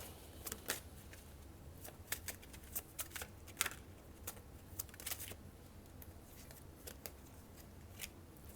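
Tarot cards are shuffled and drawn during a reading, producing quiet, close papery riffles and crisp snapping flicks scattered irregularly over several seconds with no talking.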